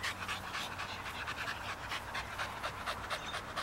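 A dog pants rapidly and steadily after running, quick rhythmic breaths close by and fairly quiet, with no talking.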